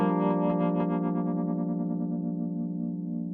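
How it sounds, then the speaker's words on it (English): Sustained G minor 7 chord through the Eventide Undulator tremolo app, pulsing rapidly at first with a sine-wave tremolo, the throb smoothing out as the chord slowly decays, with no talking. "So we're going to have it tremoloing with a sine wave here."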